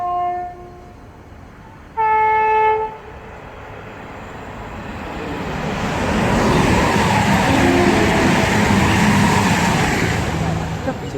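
A train passes through Bedford station on the Midland Main Line: a short two-tone horn blast, then a broad rumble of wheels and carriages that swells and holds, fairly loud and near.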